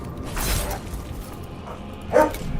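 A pet dog gives a couple of short barks or yips indoors. The first comes early and a sharper one comes near the end, over quiet background noise.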